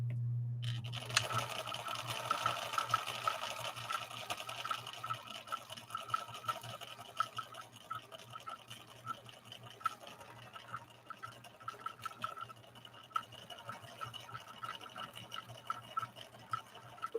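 Viking 6020 sewing machine stitching leather, a faint, rapid ticking needle rhythm that runs steadily after a brief start, quiet and close with light clattery texture.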